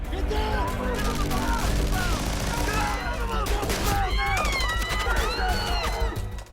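Gunfire in an action film scene about a heist by former elite police: rapid volleys of shots run continuously under a dense soundtrack, with voices and tonal, swooping sounds layered on top.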